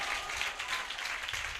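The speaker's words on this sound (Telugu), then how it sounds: "గట్టిగా, చప్పట్లతో, బిగ్గరగా" A church congregation breaks into a brief, dense burst of loud clapping and applause, even and sustained for under two seconds.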